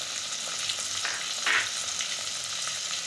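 Tomatoes fry with softened onions in a pan for chicken dum biryani, giving a steady close sizzle throughout, with a brief louder crackle near the middle as the mix is stirred.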